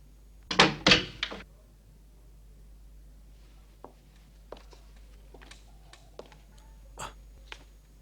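A door bangs hard in a 1980 Italian action-comedy film, two loud heavy thumps up front, then sparse, quieter knocks and clicks spread through a hushed scene.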